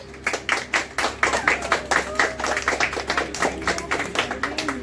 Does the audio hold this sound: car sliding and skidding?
no